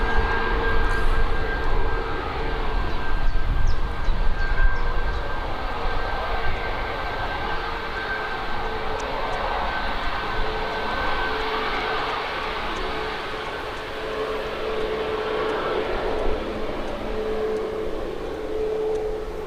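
Ryanair airliner at Birmingham airport, a broad steady engine roar with a faint high whine, continuous and fairly loud, slowly easing off over the stretch.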